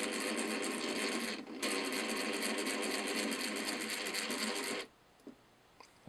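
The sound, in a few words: air compressor running and rattling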